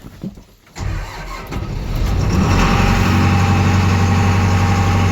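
An MTZ tractor engine cranks briefly and starts from inside the cab, then settles into a loud, close, steady diesel idle.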